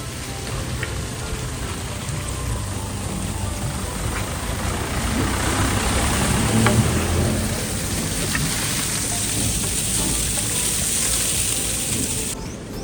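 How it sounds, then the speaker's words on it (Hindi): Steady broadband rush of a roadside monsoon waterfall on the Kedarnath–Badrinath route in India, mixed with heavy rain, continuous and fairly loud throughout, with no voices. "एक और झरना"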